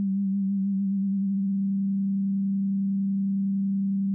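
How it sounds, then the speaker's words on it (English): FM synthesis on Ableton Operator: a steady, fairly loud low sine tone holds alone for about four seconds, with a slight wavering early on where a faint sideband tone ghosts in. "as I turn this up, you'll hear like another tone just kind of ghost in there."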